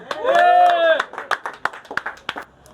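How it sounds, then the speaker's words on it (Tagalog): Crowd clapping and cheering at a Filipino rap battle event, a swell of voices and applause at first, then scattered sharp claps trailing off. "maaari bang ang kanyang katahimikan ay bigyan natin ng masigabong palakpakan at sigawan?"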